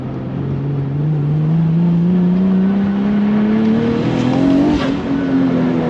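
Car accelerating hard on a mountain touge road, its engine note climbing steadily through one long pull, loud and close from inside the cabin, with a brief shift-like blip near the end.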